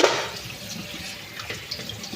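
Running tap water pours over pork belly being rinsed in a sink, a steady close splashing stream with a louder burst at the start and small splashes as the meat is handled.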